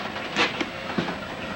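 A train rolls along the rails with a steady low rumble and a few faint clicks and hisses, heard alone from fairly close.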